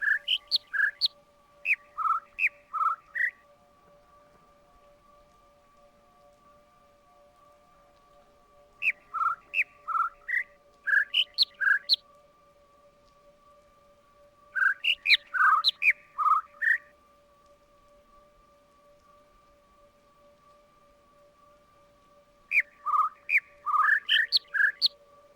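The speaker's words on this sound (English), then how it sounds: "instead of leaving you guys to hear a bunch of birds chirping" Birds chirp in four separate bursts of quick, high tweets, each a second or two long, set against a quiet background with a steady faint electronic tone running throughout.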